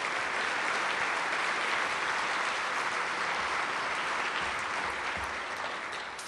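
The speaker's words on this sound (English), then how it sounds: "How about a nice round of applause for all our partners?" Dense, sustained applause from a large conference audience at a keynote session in Las Vegas, steady and loud throughout, tapering slightly near the end.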